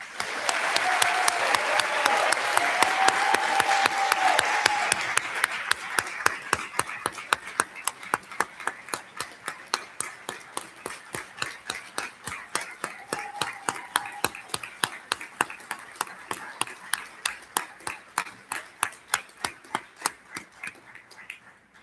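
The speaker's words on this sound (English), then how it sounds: "Please join me in a round of applause for all of our Just Hooded Masters" Audience applause for newly hooded master's graduates at a university hooding ceremony, a dense burst of clapping that thins after about five seconds into scattered, rhythmic claps continuing to the end.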